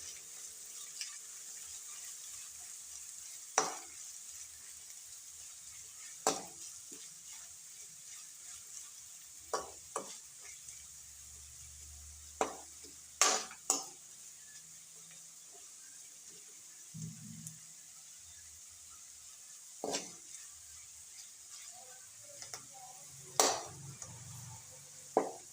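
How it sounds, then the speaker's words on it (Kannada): Chopped onion and green chillies fry in a pan with a continuous soft high sizzle, punctuated every few seconds by sharp scraping stirs of a spoon against the pan; no talking. "ಇದು ಒಂದು ಸ್ವಲ್ಪ ಈರುಳ್ಳಿ ಫ್ರೈ ಆಗೋ ಮಟ್ಟ ಒಂದು ಸ್ವಲ್ಪ ಕೈ ಹಾಕ್ಯಂತೀವಿ."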